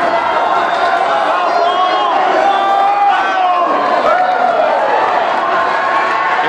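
A big crowd roars and cheers continuously at a high school conference championship track race at Whitewater High School, loud and sustained through the final laps, with shouts rising over the din.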